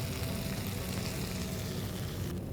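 Seafood sauce with chili flakes sautéing in a pan, a dense steady sizzle close up and alone, with no talking.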